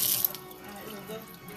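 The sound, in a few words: washing hands under running tap water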